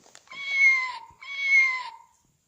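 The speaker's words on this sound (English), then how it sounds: "Cat," A cat meows twice in clear, close succession, each call long and tonal with a rising-then-falling shape, heard alone without any talk.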